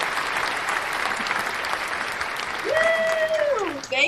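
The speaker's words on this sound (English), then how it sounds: "please give a warm welcome and a huge round of applause for the one and only Gina" Warm audience applause at a gathering for Christmas Santa placement agents, a dense, sustained patter of clapping that swells slightly near the end, where a whooping cheer rises above it.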